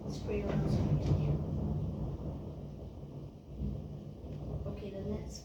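Thunder rumbling during a thunderstorm, a low rolling roar that swells early, fades, then builds again toward the end, with rain and wind noise mixed in.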